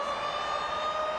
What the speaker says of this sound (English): Siren has been acknowledged as Tim Brasher takes it to ground.